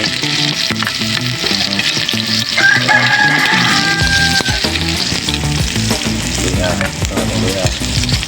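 Chili and garlic fry in hot oil for a spicy porcupine fish dish, a steady loud sizzle with stirring that runs throughout, over a bed of background music, with a rooster crowing in the distance.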